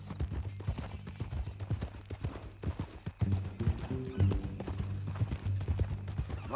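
Horse hooves clip-clop steadily in Red Dead Redemption 2, a rhythmic run of close hoofbeats over low background music, with a brief snort or whinny mixed in.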